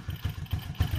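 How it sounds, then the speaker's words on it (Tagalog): A motorcycle engine runs close by during carburetor tuning, with a quick, even, throbbing exhaust pulse that chugs steadily at a loud level. "yung pinakamatining na tunog ng makina o yung pinakamagandang tunog ng makina"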